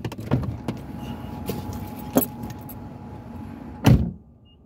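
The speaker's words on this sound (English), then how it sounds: "I gotta go start my truck up." Keys jangle in a few sharp bursts, then a truck engine cranks and turns over, all close by with no talking.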